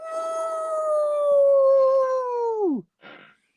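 A person imitates a wolf with one long, loud howl on a steady pitch that slides sharply downward at the end, followed by a brief faint noise, heard on a college football sports show.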